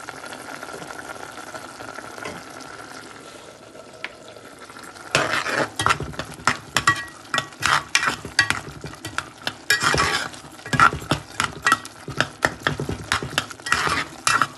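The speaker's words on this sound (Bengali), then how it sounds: "মশলা কষি যাক" Masala spices fry in a pan for a Bengali fish and dried-fish bhuna, with a soft sizzle at first, then a utensil stirring and scraping in close, rhythmic strokes against the metal over the bubbling cooking.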